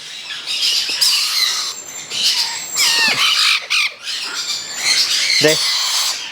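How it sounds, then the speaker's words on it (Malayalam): Loud, harsh squawks from a chattering lory chick, repeated in rapid bursts with shrill chirps in between, close by and continuous. "ചാറ്ററിംഗ് ലോറിയുടെ കുഞ്ഞാണ് കേട്ടോ"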